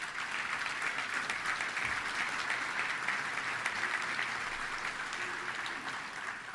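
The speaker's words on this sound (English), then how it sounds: "please stand and let's give them a round of applause" Attendees at a touchdown club luncheon give a round of applause to the club's founders and board members, producing steady, even clapping from a large indoor crowd that holds for several seconds and tapers slightly.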